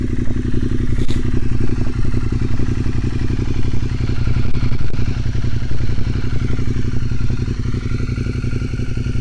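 A 2014 Ducati Monster 1200S motorcycle idles steadily after a cold start, its loud, close engine keeping up a dense, even rumble with a fast pulsing beat throughout, with no voices over it.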